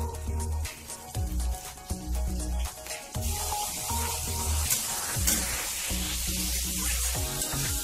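Long beans (bodbady) frying in a pan over a lowered flame, a steady close sizzle with bursts of stirring and scraping, continuous and fairly loud throughout.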